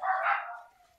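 A dog gives a single short, sharp bark indoors in a room, fairly faint and heard alone.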